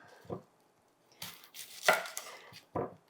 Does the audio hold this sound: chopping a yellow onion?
yes